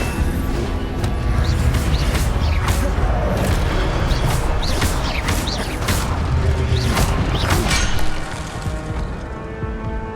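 Incendio fire spell cast in Hogwarts Legacy combat: a loud, dense roar with repeated cracking, booming bursts that runs the whole time and eases slightly near the end.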